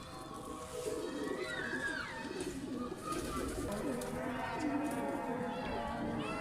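Pigeons coo on a rooftop loft alongside Rampuri quail, soft repeated coos and bird calls mixed with steady outdoor background noise and someone talking throughout.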